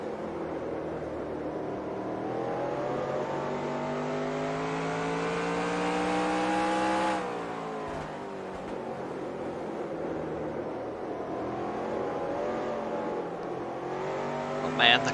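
Race car engines in the NASCAR Racing 2003 game during an ARCA season race, a loud sustained engine roar with steady harmonic whine, a sharp drop and downshift midway, then climbing revs again, with speech over the top.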